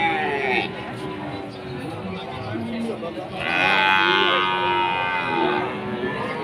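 Bull cattle moo at a livestock market in Pati, long low calls rising into a louder bellow midway, heard amid crowd noise and people talking nearby.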